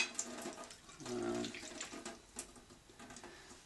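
Leftover water from a tea cup is poured over a slightly dirty plate, giving a faint, brief splashing trickle that swells for a moment and then thins into scattered drips.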